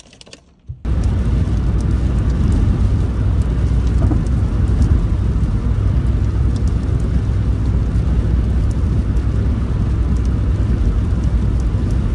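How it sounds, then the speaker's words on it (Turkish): Heavy rain drums steadily on a car in motion, a loud, constant wash with a low road rumble beneath. It starts abruptly after a short quieter moment and has no voices over it. "Hava yağmurlu. Dikkatli gitmek lazım."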